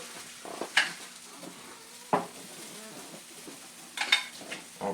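Small pancakes fry quietly in a pan with a soft, steady sizzle, broken by a few brief scrapes and clinks of a utensil against the pan.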